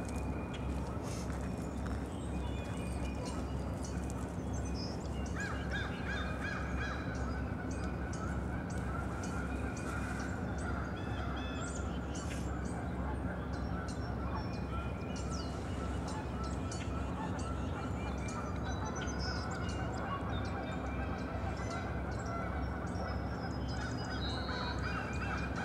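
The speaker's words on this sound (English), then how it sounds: "The geese are having a good time at the other end of the lake." Geese honk at the far end of a lake, a scattered, distant chorus of calls over steady outdoor background.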